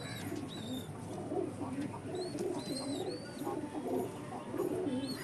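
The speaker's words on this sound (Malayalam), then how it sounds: "ഇതാണ് പ്രാവ്. ഇതിൻ്റെ സ്റ്റാൻഡിങ് നോക്കാം." A female country pigeon at a pigeon loft coos in repeated soft, low bursts, close and fairly steady, with sharp chirps and faint background chatter around it.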